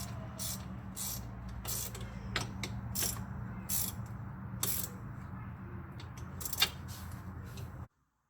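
A ratchet wrench tightens 13 mm bolts and a bolt-and-nut on the front control arm of a Dodge Grand Caravan minivan, giving repeated bursts of quick clicking over a steady low hum, close by, then cutting off abruptly.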